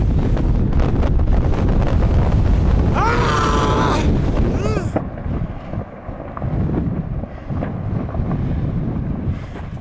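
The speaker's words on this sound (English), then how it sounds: "Ooh, it's a little windy up here now." Strong wind roars across a volcano summit in Guatemala, buffeting the microphone loudly and continuously, with a brief whistling tone partway through and gusts easing toward the end.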